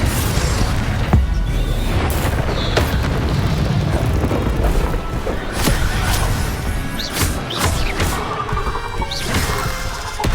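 Confringo fire spells bursting in Hogwarts Legacy amid combat, a dense loud barrage of booms, crashes and thuds overlapping continuously with sharp impacts scattered throughout.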